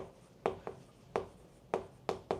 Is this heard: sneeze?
no